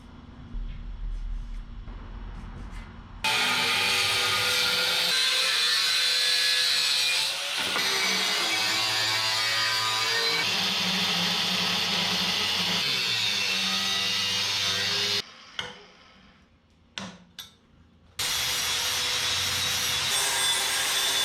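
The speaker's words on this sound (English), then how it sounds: "Use the cutoff wheel, do some kind of straight cuts" A cutoff wheel slices through a piece of 2-inch, 1/8-inch-thick scrap angle iron with a sustained loud grinding whine, stopping briefly midway, then cutting out in short bursts before resuming.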